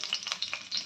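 Ginger frying in hot oil in a pan, a steady close sizzle with soft stirring scrapes, short and fairly quiet with no voices.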